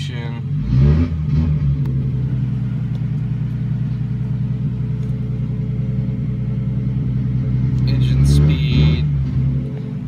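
Lexus IS300 with a turbo build idles with a steady low rumble, the engine briefly revving near the start and again near the end, close and loud throughout.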